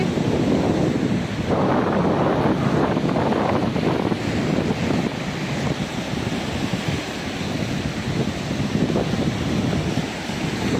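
Sea waves and wind on the shore at Ramanathapuram, where the Vaigai River meets the sea: a loud, steady roar of surf with buffeting wind noise on the microphone throughout, no voices.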